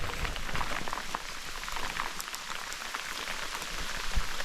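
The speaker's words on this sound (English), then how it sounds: "And it's raining." Steady rain patters on surfaces along a highway road trip, a continuous close hiss of drops with no voices.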